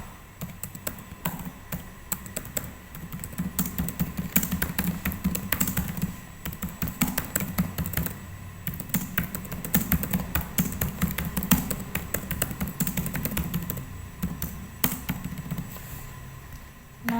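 Quiz questions are typed on a computer keyboard in a long run of rapid, irregular key clicks, close and steady with short pauses between bursts.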